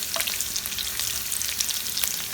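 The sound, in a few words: frying chopped garlic and curry leaves in oil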